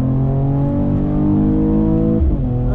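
A 2021 Mercedes E53 AMG Coupe's turbocharged engine pulls hard toward redline, a loud steady rising drone heard from inside the cabin, ending in a quick shift.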